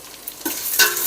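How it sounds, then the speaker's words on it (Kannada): Vegetables such as capsicum, brinjal and potato stir-fry in a tempering in a pan, with a loud bright sizzle rising in bursts as they are stirred, no voices. "঒ಂದು ತಟ್ಟೆ ಮುಚ್ಚಿದ್ದೆ, ಎಲ್ಲ ಬೇಯ್ತಾ ಇದೆ"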